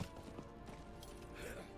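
Horse hooves clip-clop in Diablo 4 as a fiery mount trots along, with quick rhythmic hoofbeats mixed into busy game sound effects and background music.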